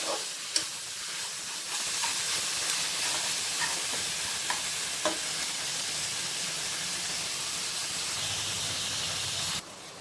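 Mutton curry sizzles and steams in a pan, a continuous close hiss with a few faint scraping stirs. No one speaks.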